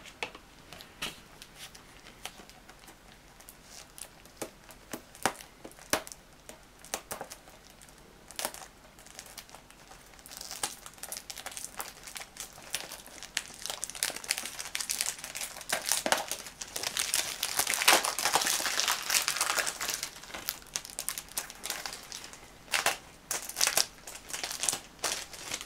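Plastic wrap comes off a Rush Blu-ray case with close, steady crinkling and crackling that grows busier and louder toward the end, with no voices.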